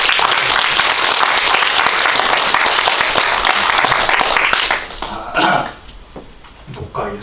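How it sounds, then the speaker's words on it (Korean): A church congregation applauds the Petra choir with loud, dense clapping that fills the room for several seconds, then thins out and fades into scattered claps and noise. "우리 귀한 찬양대 페트라 찬양대 격려하는 마음으로 힘찬 박수 한번."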